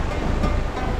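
A clear river rushes through a valley near Khanpur on the way to Kohala, a continuous broad wash of flowing water heard close, with some wind buffeting the microphone and no speech.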